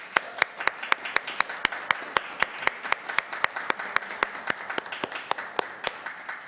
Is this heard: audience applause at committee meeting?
yes